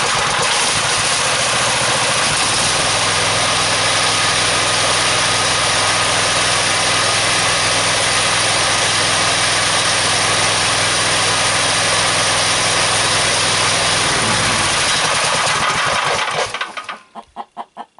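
An engine driving a DC generator runs at raised RPM, a loud, steady droning roar with a strong low hum that holds for about sixteen seconds, then cuts out and sputters to a stop in a few uneven pulses.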